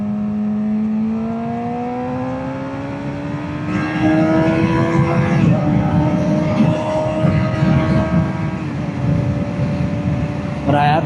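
A 600cc sport motorcycle engine, with a 16,000 RPM redline, climbs steadily in pitch as it revs, holds a loud high whine, briefly drops and surges again, close and continuous.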